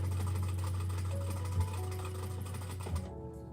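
A sewing machine stitching the strap of a girl's dress, running in a steady loud whir with small bumps in speed, close up and without speech, then stopping near the end.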